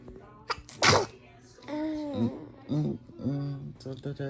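A single sharp sneeze bursts out close by near the start, loud against a calm home setting, followed by someone talking in a high, playful voice to a small child.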